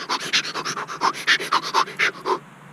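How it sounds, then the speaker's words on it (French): A person breathes erratically on purpose as a demonstration, with a quick run of about a dozen sharp, close panting breaths in and out. A brief quieter pause comes at the end, and there is no talk. "dans la première phase, on va respirer n'importe comment"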